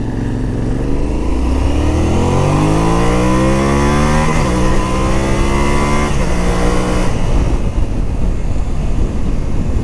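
A Yamaha Ténéré 700 motorcycle engine on the road accelerates hard through the gears, its loud drone climbing in pitch, dropping at a shift, then rising again amid steady wind rush, with no talking.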